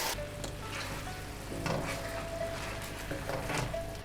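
Chicken wings sizzle in a pan with rice wine and light and dark soy sauce for Coca-Cola chicken wings, a steady close frying hiss broken by the scrape and clink of stirring.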